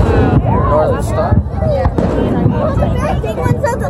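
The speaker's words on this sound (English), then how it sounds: "I like the high fireworks." Fireworks burst over a crowd celebrating American fireworks, with muffled thuds and crackles sounding under nearby chatter and exclamations from onlookers.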